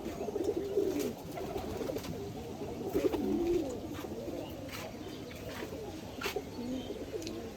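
Several pigeons cooing close by in a coop after feeding, soft low repeated coos overlapping across the whole stretch, with faint rustling and no talk.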